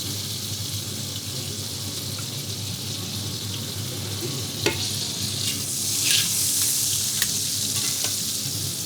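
Pork chops frying in hot fat and butter in a pan give a steady, close sizzle, with brief sharper crackles and spits rising partway through.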